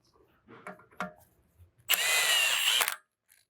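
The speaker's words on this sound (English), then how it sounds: "I'll just give it a light zap with the impact just to snug it down" A brief burst of an impact wrench snugs down a new rear axle bolt on a Volkswagen Mk7 Golf R during a wheel bearing replacement, one loud buzzing zap about a second long, preceded by light clinks of handling parts.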